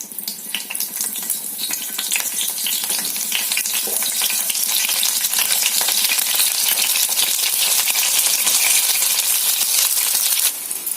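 Bitter gourd pieces fry in hot oil, giving a loud, steady crackling sizzle that fills the whole stretch with no voices over it.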